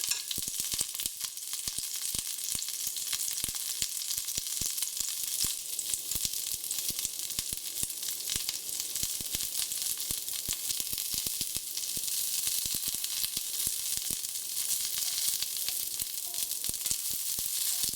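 Cauliflower florets fry in hot oil in a pan for Bengali khichuri, giving a steady, dense sizzle throughout with faint scrapes and crackles as they are stirred, with no talking.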